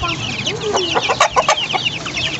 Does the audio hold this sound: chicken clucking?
yes